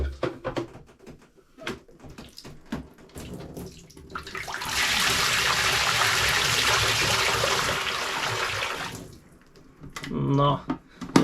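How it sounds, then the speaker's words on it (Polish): Water is poured out of a bucket during aquarium cleaning, a rushing splash lasting around four seconds, with quieter clinks and handling noises before and after. "Wylewamy wodę z kubła."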